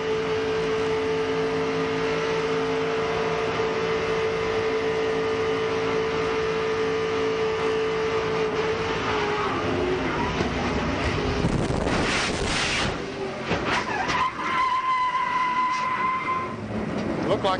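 NASCAR race car in-car audio during a crash at the 2000 NAPA Auto Parts 300, with a steady loud engine drone that breaks into chaotic rattling, banging and wind roar, then a changed engine tone after the impact.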